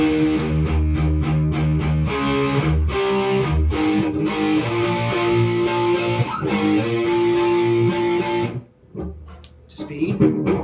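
Electric guitar plays a rhythm riff at slow speed, a distorted chugging pattern on the low strings with slide-up figures, loud and steady before a brief dip near the end.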